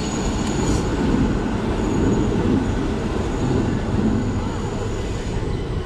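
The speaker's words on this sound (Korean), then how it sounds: "저게 바로 그 유명한 2번 트램." A yellow tram on Budapest's line 2 rumbles steadily close by, with a continuous low roar and faint metallic squeal over the whole stretch.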